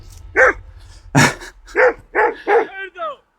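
A dog barks close by in a quick series of loud, sharp barks, about six in a row, ending with a higher yelping bark.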